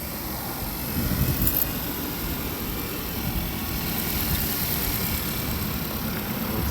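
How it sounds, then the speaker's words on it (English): A 2014 Cadillac ATS engine idles with a steady, noisy low rumble and a constant mechanical hum, close and even throughout with no voices. "But the car is started. Sounds noisy, but she's running."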